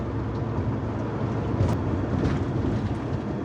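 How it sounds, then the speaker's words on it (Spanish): A long freight train passing in the southern United States, heard as a steady, low rumble with faint rhythmic clatter, continuous and fairly close, without speech. "Qué largo ese tren."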